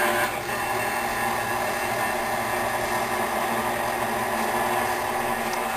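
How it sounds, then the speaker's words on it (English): An electric mixer whirring steadily as it beats red velvet cupcake batter, a continuous even motor drone with no pauses and no talk. "now we're going to put our mixer back down, and we're going to mix this all up"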